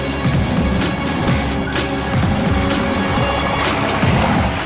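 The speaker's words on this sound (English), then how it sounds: "the four-wheel drive helped the Thar clamber up without any drama" Mahindra Thar four-wheel drive engine labours up a slippery off-road slope, a loud, steady drone with rough bumps and rattles throughout, no talking.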